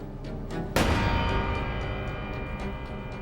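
A single sharp gunshot from a crime-scene dramatization cracks out, its boom decaying over a couple of seconds, with faint ticking in the background before and after.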